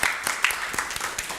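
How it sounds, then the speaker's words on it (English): Brief applause from a small audience at a council meeting, scattered claps of moderate loudness that thin out quickly. "So one more applause for you."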